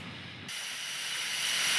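A steam locomotive hisses at an overhead watering point at George Station in South Africa; a quieter low rumble gives way to a loud, steady, rising hiss of escaping steam.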